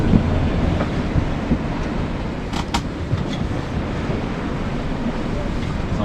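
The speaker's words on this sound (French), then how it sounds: "Wow, ils sont gigantesques les vagues." Large, long sea waves around a sailboat on the St. Lawrence, a steady broad wash of water and wind buffeting the microphone, continuous and fairly loud, with a few brief higher clatters partway through.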